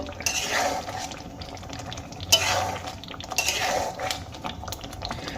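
Spinach and gram flour dish seasoned with kasuri methi being scooped and served onto a plate, with spoon scrapes, clinks and soft stirring sounds close by, no speech.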